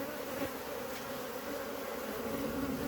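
Honeybees buzzing around an opened hive, a steady dense drone close by and without speech.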